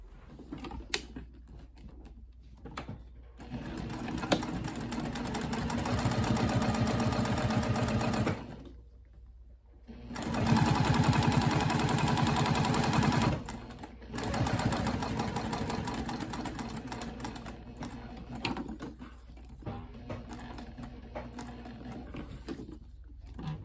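A sewing machine stitches a cork dog collar in several long, loud, steady runs of fast mechanical whirring, broken by short quiet pauses, recorded close up with no speech.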